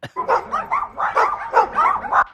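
A dog-barking sound effect of several dogs yapping in a fast, loud, overlapping string of barks and yips, with no talk over it.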